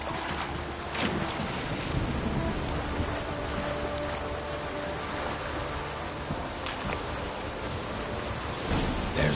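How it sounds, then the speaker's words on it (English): Stormy weather in The Witcher 3, with steady heavy rain and gusting wind roaring continuously and fairly loud, a few brief louder gusts rising through it, and no voices. "Storm, damn it."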